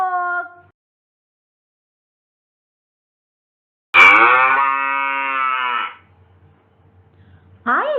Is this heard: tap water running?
no